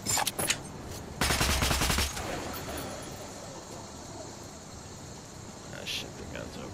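Overheating gun firing in the video game Metro Last Light Redux, a brief sharp burst of rapid automatic shots up close followed by a hissing wash of noise, with a few isolated bangs before it.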